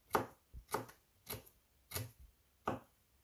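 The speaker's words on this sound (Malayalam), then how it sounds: "പിന്നെ ഇഞ്ചി ഇതുപോലെ ചെറുതായിട്ട് അരിഞ്ഞ് വെക്കണം." Knife chopping ginger finely on a cutting board: five distinct, evenly spaced chops, each a sharp close thud with a short wooden ring, separated by brief quiet.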